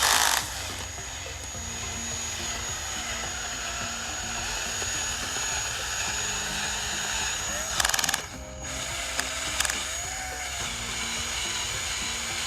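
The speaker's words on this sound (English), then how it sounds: "I'm gonna try a different setting on the drill and see what we can do." A power drill turning a bulb auger whirs steadily, grinding through soil with a few sharp bursts and changes in pitch; someone speaks briefly over it.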